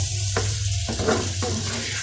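Hot oil sizzling steadily in a pan of fried taro (kochu), with a few stirring scrapes over a continuous hiss, close up and fairly loud.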